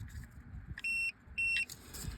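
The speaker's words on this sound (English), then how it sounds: "if you don't hear a beep, so it'll sound something like this" Two long steady electronic beeps from an orienteering dibber being punched at a checkpoint, each lasting about a quarter second with a short gap between, clear over soft outdoor background rumble.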